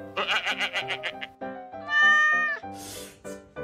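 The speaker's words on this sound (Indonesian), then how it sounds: "Ngapain lu ngeong-ngeong?" A cat meows repeatedly in quick, short cries, then gives one longer drawn-out meow followed by a few more calls, close and fairly loud.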